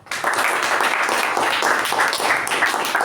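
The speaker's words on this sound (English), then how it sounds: "A huge round of applause to him." A crowd applauding steadily, dense clapping that starts abruptly and holds at an even level throughout.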